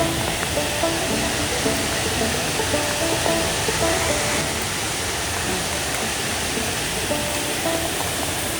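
A waterfall on the Virgin Falls trail roars as a steady, broadband rush of falling water, close and constant throughout with no pauses or talking.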